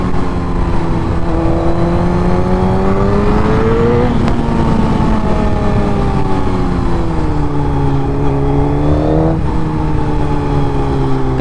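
A Suzuki GSX-R1000 sportbike in standard riding mode pulls through the city, its engine note rising and falling steadily with throttle and gear changes, loud and close throughout with no talk.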